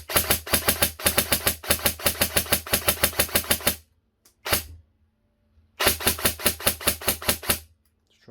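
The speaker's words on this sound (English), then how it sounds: "I'm just going to dump a load of rounds into the chrono now to show you how snappy this thing is." Secutor Rapax airsoft DMR fired in two quick strings into a chronograph, sharp snappy shots in even rapid rhythm, loud and close, separated by a short pause with a lone shot between.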